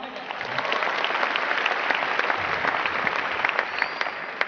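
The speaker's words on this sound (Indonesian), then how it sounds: "Mohon aplaus untuk semua panitia." An audience at a corporate seminar in Malang breaks into applause for the organizing committee: dense, steady clapping that builds quickly and carries on evenly.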